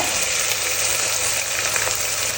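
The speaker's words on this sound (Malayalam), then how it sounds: "ഇത് ചെറിയ കഷ്ണം സബോള എടുത്തിട്ടുണ്ട് ഇനി നന്നായി വഴറ്റട്ടോ പച്ചമുളകും കൂടി ഇട്ടിട്ടുണ്ട്" Small onion pieces and green chillies sautéing in a pan give a dense, steady sizzle, loud and close, with faint stirring and no voices.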